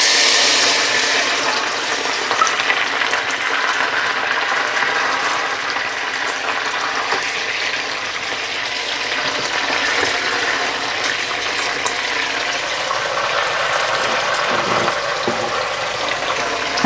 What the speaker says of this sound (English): I'm going to add 1 cup of boiled water straight into that.